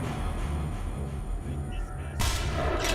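Enemy sniper fire in the video game Manhunt 2 sounds as a run of low, muffled booms, followed by a louder, sharp crack near the end over a dull game background.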